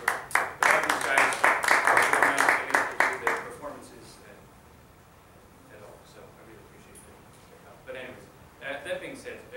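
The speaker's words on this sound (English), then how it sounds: "Please give her a round of applause." Applause from the audience at a lecture-recital on piano in Irish traditional music: a loud burst of clapping for a few seconds that fades out, then a quieter stretch and a brief second flurry of claps near the end.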